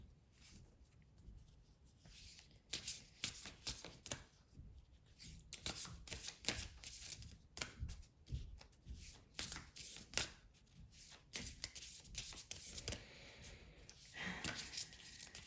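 Celtic Oracle cards are shuffled quietly and close up before a tarot reading draw, a run of soft riffling flutters and light card taps that come in uneven bursts for several seconds with no voice over them.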